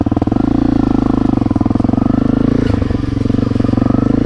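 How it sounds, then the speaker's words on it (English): A Honda CRF250L dirt bike engine runs close and loud on a trail ride, a steady thumping single-cylinder idle with a rapid pulsing rhythm. "This bike can be heard from way too far away."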